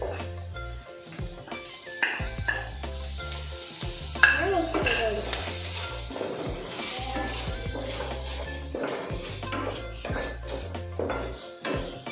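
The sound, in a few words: stirring semiya upma with curry leaves in a pan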